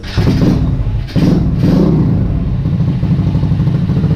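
A Vader 125 Grom clone motorcycle, carbureted and fitted with a new exhaust, idles loudly and close by with a steady low rumble and a brief dip early on.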